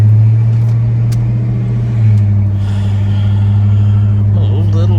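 A 1970 Chevrolet El Camino rolls along, its engine a steady low rumble heard from inside the cab, loud and continuous with a slight shift in pitch midway.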